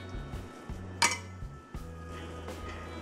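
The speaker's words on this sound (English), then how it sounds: "Now mix everything" Utensils clink and scrape against a bowl while hara bhara kabab mixture with salt, corn flour and cilantro is stirred, several short metallic knocks in an uneven rhythm, close and fairly loud.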